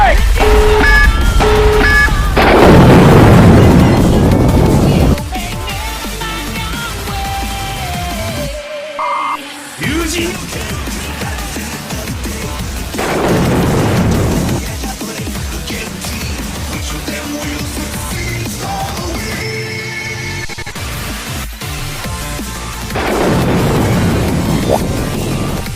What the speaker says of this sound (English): Tactical nuke incoming!